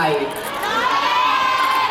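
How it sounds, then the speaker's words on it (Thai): A crowd of fans shouts and cheers at an Innisfree festival fan event, a dense, steady roar of high excited voices and whoops that fills the space at close range. "มีหลายคนตะโกนขึ้นมา"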